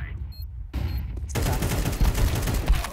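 Rapid bursts of Counter-Strike gunfire on the Mirage map crackle continuously, loud and close, after a few scattered shots at the start.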